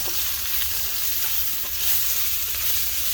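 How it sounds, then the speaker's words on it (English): Onions with salt, pepper, lemon pepper, ginger and chili flakes fry in a little oil in a pan, a steady close sizzle and hiss with faint stirring scrapes and no voices. "Give that a stir."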